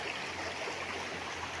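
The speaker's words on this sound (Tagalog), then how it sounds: "at ito ang ilog" A river flows through a three-hectare farm lot with coconut trees beside a roadside in Real, Quezon, giving a steady, even rush of water with no voices.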